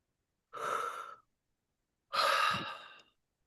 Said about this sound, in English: Sometimes the breaths look like yawns. Sometimes they just like deep inhales.